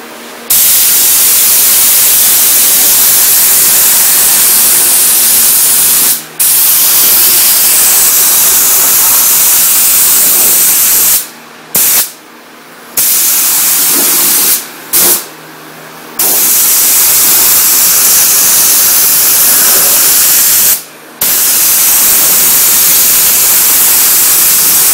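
A spray gun lays single-stage Gunsmoke metallic paint on 1965 Mustang parts, a loud, continuous close hiss lasting long stretches, cut by a few brief trigger releases and short pauses.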